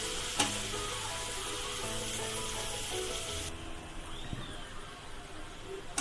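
Chopped onions sizzle and fry steadily in a hot pan for a vegetable biryani, a dense continuous crackle close up with an occasional stir or tap, no voices.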